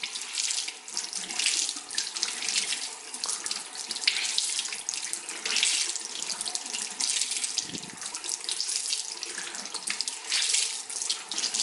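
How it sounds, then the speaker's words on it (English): Steady running tap water splashes into a sink, with soft squelching as a new makeup sponge is squeezed under the stream to push out air bubbles. "You really want to squeeze it and let it get the air bubbles out"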